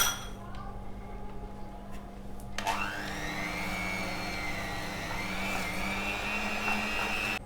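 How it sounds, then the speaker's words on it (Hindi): An electric hand beater whirs steadily as it creams butter and sugar for a baked almond cake, starting after a brief quiet stretch with a rising motor pitch that settles into a continuous close, loud hum with faint clinks. "ये बटर और चीनी को मैंने मिक्स कर लिया है बीटर के साथ।"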